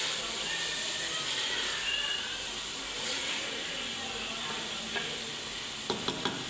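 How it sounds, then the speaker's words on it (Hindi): A chicken and dal mixture sizzles in a hot pan with a constant frying hiss, while a spoon stirs and scrapes through it, ending with a few quick taps against the pan. "देखें, अब इसको भी हम अच्छे से मिक्स करेंगे।"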